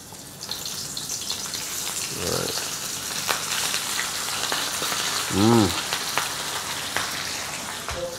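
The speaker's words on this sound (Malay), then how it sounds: "sekarang ni kita dah masukkan ikan dekat dalam kuali ni" Fish crackles and sizzles in hot, smoking oil in a wok, a steady spattering hiss like rain with a few brief voice sounds over it.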